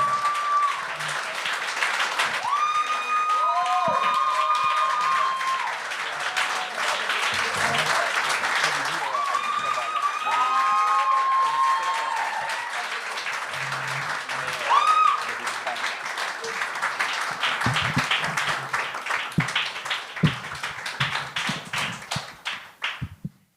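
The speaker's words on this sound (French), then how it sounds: "On applaudit jusqu'à temps qu'il commence, s'il vous plaît." A comedy show audience applauds in a steady dense wash of clapping that lasts most of the stretch. A host speaks over the clapping, and the crowd grows sparser and quieter near the end.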